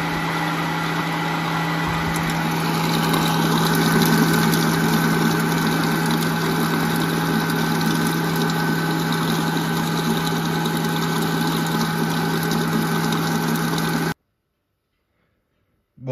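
A Mambo Habana kitchen robot grinds hazelnuts at maximum speed, producing a steady, loud motorized whir with a constant low hum throughout, ending abruptly in silence near the end.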